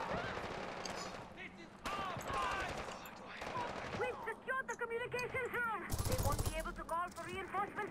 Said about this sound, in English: This gun has just got so much fire.